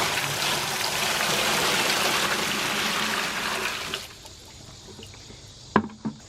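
Water, about five gallons of it, pours out in a steady, close rush for a few seconds before stopping, ahead of mixing in muriatic acid to dissolve mortar from reclaimed brick.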